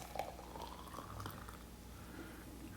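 Water from a Keurig machine being poured into the water container of a French press-style K-Cup coffee maker, a faint steady trickle and splash running continuously without talk.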